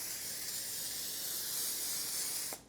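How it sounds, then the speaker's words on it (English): A steady, continuous mist of olive oil spray hisses close up over chips for a couple of seconds, then cuts off abruptly. "you can go ahead and just spray it all over your chips"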